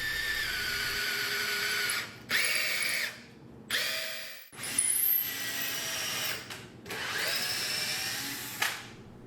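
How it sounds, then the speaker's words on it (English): A drill press whines in several bursts while boring holes in wood, each run starting and stopping abruptly with short pauses between, close and loud. "go over to the drill press and drill from both sides, starting a nice centered hole"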